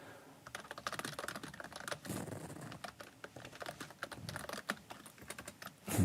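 Quiet, fast typing on a computer keyboard, a stream of light irregular clicks with a louder thump near the end.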